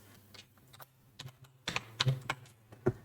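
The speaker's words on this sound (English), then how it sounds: "So I typed in a password." Password being typed on a computer keyboard while creating an account, with a short run of close, crisp key clicks, sparse at first and then quicker, with no talk.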